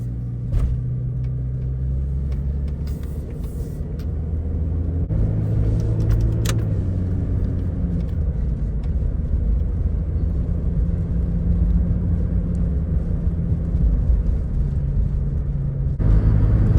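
A Jeep XJ drives along a road with a steady, close engine drone and low rumble throughout, plus road and wind noise and brief higher ticks, with no talking.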